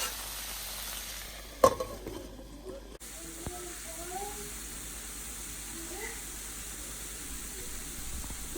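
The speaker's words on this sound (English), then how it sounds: "And just stirring it once in 5 minutes so that it should not burn from the bottom." Okra fries in a pan on a medium flame, with a soft, steady sizzle and occasional scrapes and clinks as it is stirred now and then.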